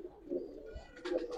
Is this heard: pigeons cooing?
yes